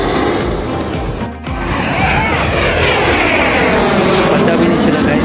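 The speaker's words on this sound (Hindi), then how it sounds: "बहुत ही स्पीड के साथ 8 सूर्य किरणें जेट्स आ रही हैं" Surya Kiran jets at an Air Force Day air show in Prayagraj sweep past overhead with a loud, continuous roar that swells and shifts in pitch as they pass, and a crowd murmurs underneath.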